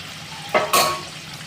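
Capsicum and onions hit a hot pan for a jackfruit sabzi, giving two quick bursts of sizzling and clatter that fade into a low, steady fry with no talking.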